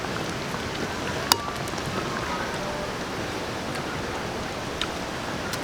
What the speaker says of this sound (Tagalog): Umulan na nga.